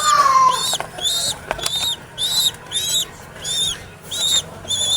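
A young pigeon chick flaps its wings in repeated short bursts, about six quick fluttering flurries close by, with brief pauses between them.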